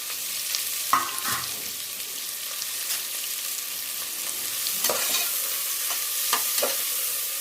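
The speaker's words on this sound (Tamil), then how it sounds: "நம்ம நறுக்கி வச்சுருக்கிற வெங்காயத்தை நல்லா இந்த மாதிரி நசுக்கி வச்சுட்டு போடுங்க." Crushed chopped onions for mint pulao fry in a pan with a bright, constant sizzle, broken by a few spatula scrapes and stirs at irregular moments; close and without voices.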